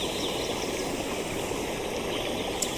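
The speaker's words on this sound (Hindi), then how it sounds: "ये देखिए कितनी अच्छा पानी बहाव।" A clear stream flows through a forest, a dense, continuous rushing and babbling of water at steady loudness throughout, close by and without any voices.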